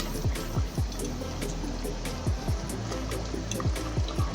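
Pieces of katla fish go into a boiling potato curry. The pot bubbles steadily and close by, with a run of soft, regularly spaced plops and gurgles and no voices.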